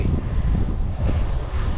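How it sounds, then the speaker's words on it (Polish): Steady, loud wind over open fields in Poland's Radomsko county rumbles and buffets a microphone, a continuous low roar with no pauses. "wiatr jest taki teraz już konkretny na tych polach"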